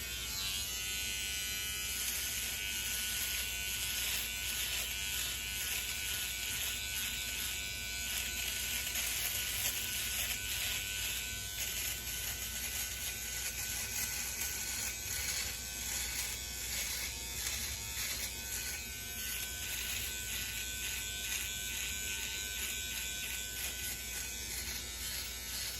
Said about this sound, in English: So what I'm going to do is I'm going to shave the opposite way. So primarily the hair is growing up. So I'm going to shave down,